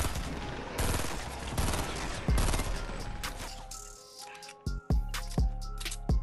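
Gunfire in a shooter video game: dense rapid shooting fills the first half amid game noise, then thins to a few separate sharp shots with gaps between them.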